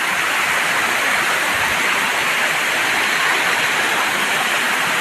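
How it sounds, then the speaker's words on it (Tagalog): Monterrico Falls in Baybay City, Leyte, pours in a steady, dense roar of falling water, close and unbroken, with no voices. "Monterrico Falls"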